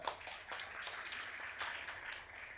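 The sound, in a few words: audience applause for Faza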